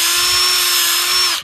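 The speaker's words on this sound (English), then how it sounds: "So we're gonna take the drill, put a slight angle." A brief, loud burst of a power drill running at steady speed while boring a tap hole into a maple tree, then stopping abruptly.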